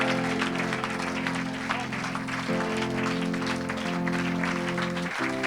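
A church congregation clapping for the Lord during a Sunday service, steady loud applause running throughout with sustained musical tones and voices mixed underneath.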